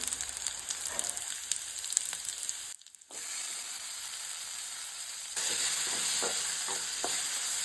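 Onion, tomato and garlic frying in a pan give a steady sizzle with stirring scrapes, broken by a brief near-silent gap before the frying grows louder and brighter.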